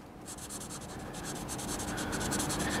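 Scratchy marker or crayon strokes colouring in a blank picture, a steady run of short rubbing strokes close up, continuous and fairly even throughout with no voices.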